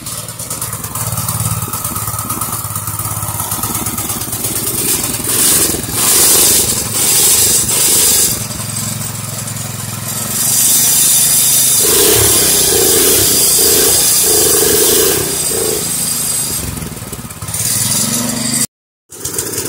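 A 3 horsepower small engine runs rough without its governor linkage connected, giving a loud, continuous, uneven chugging drone whose intensity surges and dips throughout, with no talking.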